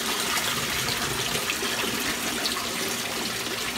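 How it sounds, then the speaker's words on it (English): Water pours out steadily as a 4-inch sock filter holder containing snails is emptied, a continuous close splashing gush with no break or speech. "So we're gonna empty out all the water."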